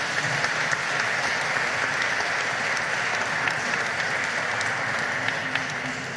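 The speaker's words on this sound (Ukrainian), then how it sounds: "Я гадаю, що ці люди заслуговують ваших оплесків" An audience at an international carol festival held in a church applauds steadily, with continuous dense clapping from a large crowd that stays even for several seconds and eases off slightly at the end.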